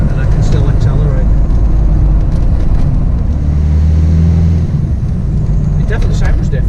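A vehicle fitted with a Fourby4x4 twin port performance manifold accelerates in fifth gear at about 38 mph, its loud low engine drone rising steadily from inside the cabin.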